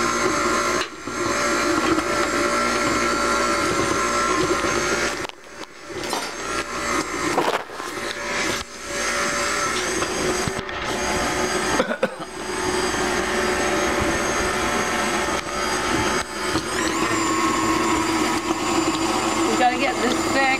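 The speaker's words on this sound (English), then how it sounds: "if you're lucky enough to have an electric mixer with a metal cutting head, use that instead" An electric mixer with a metal cutting head churns a strawberry and chocolate trifle, a steady loud motor whine with brief drops and restarts, and a person talks over it.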